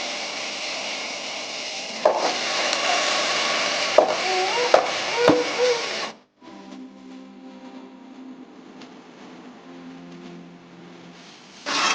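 Boiled chickpeas being stirred in a pan, with a steady scraping and rubbing of a spoon and a few sharp knocks against the pan, followed by a quieter stretch of soft mixing.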